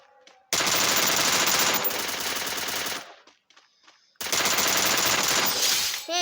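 Shooting video game gunfire erupts in two long, loud sustained bursts of rapid automatic fire separated by a brief near-silent pause.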